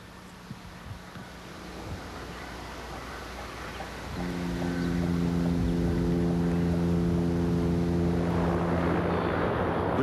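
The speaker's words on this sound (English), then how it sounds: "The combination of 32 propeller blades and four extremely powerful turboprop engines made the Bear one of the loudest aircraft in the history of aviation" A Tupolev Tu-95 Bear, a Soviet military aircraft with four powerful turboprop engines and 32 propeller blades, drones steadily; its loud tonal engine roar swells partway through and stays strong to the end.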